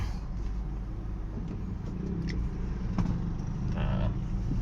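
Second-generation Honda CR-V with an automatic transmission reversing: a low, steady engine rumble at idle with faint road and surrounding noise.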